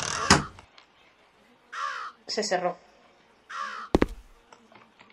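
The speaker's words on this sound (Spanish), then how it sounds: "Por ahí suena como un cuervo." Several harsh crow caws ring out in the horror video game Root of Evil, spaced between short bursts of a player talking, with a sharp thud near the end.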